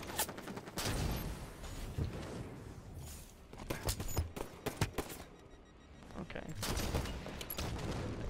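Rapid bursts of gunfire ring out in a competitive shooter game, with clustered shots and volleys at varied loudness alongside other game noise, with a voice talking over parts of it.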